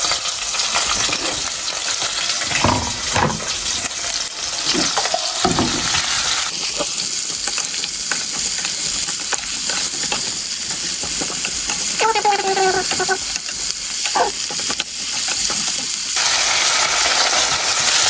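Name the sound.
onions frying in hot oil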